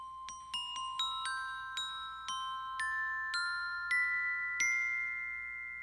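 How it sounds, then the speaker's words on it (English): An orchestral glockenspiel plays a slow run of single bright metallic notes, each struck clearly and left to ring, about a dozen tones in a steady rhythm. "Glockenspiel."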